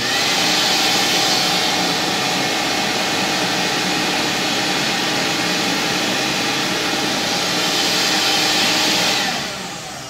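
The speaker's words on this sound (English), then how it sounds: "I'll now turn on the vacuum to simulate flow in the meter." A vacuum cleaner runs steadily and loudly to push airflow through a Panaflow Z1G flow meter in a test setup, a continuous broadband roar that holds for about nine seconds before winding down.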